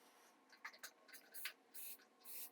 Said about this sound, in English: That one also has a really nice long spray.